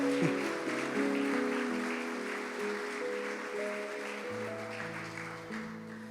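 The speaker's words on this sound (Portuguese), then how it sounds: "Dê uma salva de palmas a essa palavra." Congregation applause during a church sermon, a soft, diffuse patter of clapping that fades gradually while sustained organ or keyboard chords ring out beneath it.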